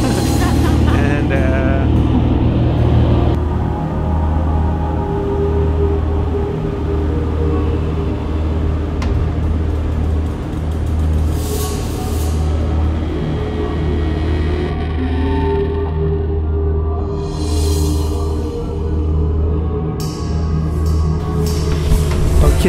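A tractor drives on an island with a loud, steady low engine rumble that carries on throughout, with faint voices now and then over it.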